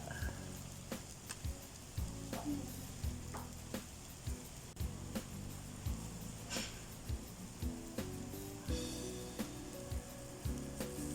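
Bacon frying in a pan while burger patties are being prepared, a steady close sizzle with regular soft clicks and spatters throughout.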